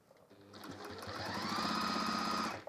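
A sewing machine stitches a square handbag in a short, close burst, its motor whirring up quickly into a steady rapid hum and then cutting off after under three seconds.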